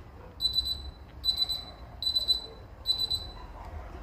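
The timer of an Arno Ultimate fan sounds in four evenly spaced bursts of high, rapid ticking or chirping, each lasting about half a second, close and clear over a faint background.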